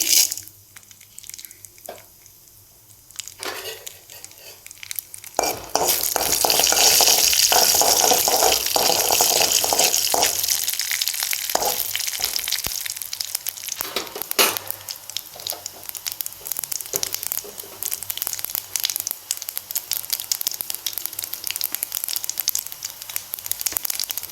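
Mustard seeds and urad dal sizzle and crackle in sesame oil for a tempering, a steady bright frying hiss that swells after a quieter start and continues alone with scattered pops.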